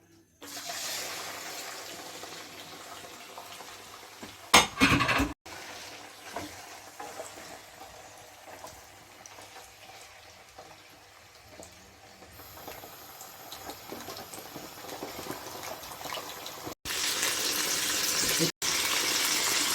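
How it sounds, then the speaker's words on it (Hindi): Chicken frying in oil in a pan for a homemade Shinwari karahi, a faint, continuous sizzle with a few sharp clatters and stirring bursts, and a louder hiss near the end. "चिकन हमने डाल दिया है।"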